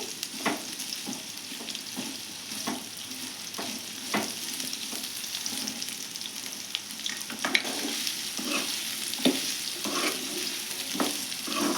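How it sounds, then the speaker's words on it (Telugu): Ridge gourd pieces frying in a pan for a chutney, with a steady oily sizzle broken by frequent scraping and stirring clicks of a spoon against the pan, close and continuous with no talking. "బీరకాయ ముక్కలు కూడా బాగా మెత్తబడేంత వరకు వేయించుకుందామండి"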